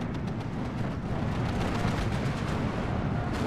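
In Steel Division 2, a B-25 bomber's bombing run is a continuous low, rumbling barrage of dense, overlapping blasts, heavy and steady throughout, with no talking.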